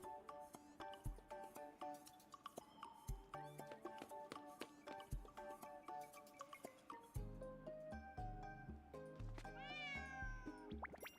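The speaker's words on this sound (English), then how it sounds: "Why is there a cat?" Repeated cat meows ring out in a video game over busy game music and chiming effects, several short cries spread across the stretch with a rising wail near the end.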